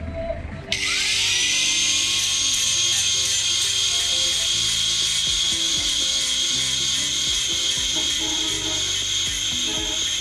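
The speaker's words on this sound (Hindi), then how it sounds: "इसका थोड़ा मटेरियल जो है ऊपर से कम करूंगा ग्राइंडर के साथ" An angle grinder shaves material off a motorcycle brake pad during a brake pad change on a Regal Raptor RX3. The grinder starts abruptly after a brief pause and holds a loud, steady, high whine to the end.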